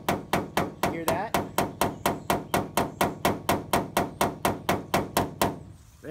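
Paintless dent repair tool tapping out a dent on a Dodge body panel, a rapid, even series of sharp metallic taps, about four per second, close and clear, fading out at the end.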